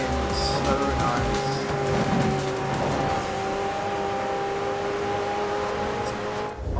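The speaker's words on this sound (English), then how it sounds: "This thing is really fast for a stock car." A stock car with an automatic gearbox in the Forza Horizon 4 video game holds a loud, steady engine drone with a sustained tonal whine, running continuously at close range.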